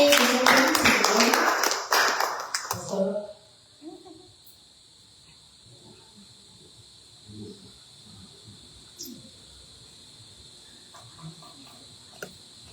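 Church congregation applauding in a loud burst of clapping for about three seconds, then fading to quiet room tone with scattered soft sounds and a steady high insect-like whine.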